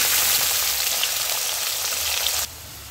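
Potatoes already coated with salt and turmeric fry in hot oil with a loud, dense, even sizzle that cuts off abruptly near the end, leaving a much quieter hiss.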